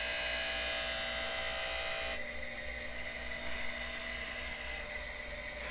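A Harig Super 612 surface grinder runs after being brought out of storage, giving a steady, close, high-pitched whine with a rubbing grind that dips slightly in intensity midway.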